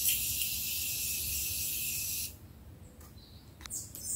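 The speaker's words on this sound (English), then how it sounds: "I'm going to set my face with the Morphe Continuous Setting Mist." A continuous mist of Morphe Continuous Setting Mist sprays onto a face, a close, bright hiss that lasts about two seconds and stops abruptly. Faint rustles and a few small clicks follow.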